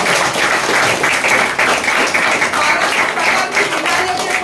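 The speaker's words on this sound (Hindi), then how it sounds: "इसके लिए जोरदार ताली होनी चाहिए" An audience at a live presentation gives loud, sustained applause, a dense wash of clapping that holds steady for several seconds.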